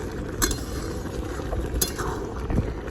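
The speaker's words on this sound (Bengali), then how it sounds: "আমি আবারও ঢাকনা খুলে নিব" A lid is lifted off a pot of tomato sauce cooking on a clay stove, giving a few brief metallic clinks spread over steady low cooking noise.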